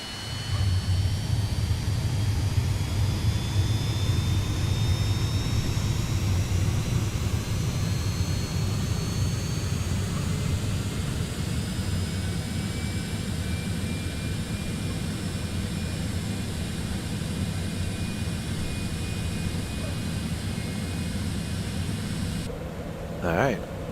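Citation X business jet engines spool up in a flight simulator, a steady broadband rumble and hiss with a slowly rising whine that holds evenly throughout, ending in a short click.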